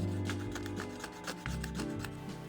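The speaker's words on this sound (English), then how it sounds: "I did start using one of my wooden clay tools to scrape the rest off a little bit faster" A wooden clay tool scrapes dried acrylic paint off a peel-off plastic palette, giving close, steady rasping strokes with a rough texture that run nearly unbroken.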